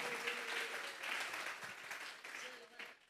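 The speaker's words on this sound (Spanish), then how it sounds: "Dele una ofrenda de palmas a Dios en esta hora." A church congregation applauds as an offering of praise, a dense, steady patter of many hands clapping that swells and then tapers off near the end, heard from some distance with a voice speaking over it.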